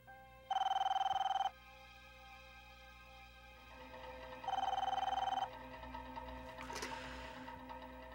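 A telephone rings in two long electronic trills a few seconds apart, clear and moderately loud over a low background hum, in a Portuguese-dubbed telenovela scene.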